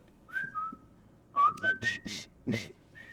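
A person whistles a short, lilting tune up close, a handful of bright pitched notes rising and falling with brief breaks.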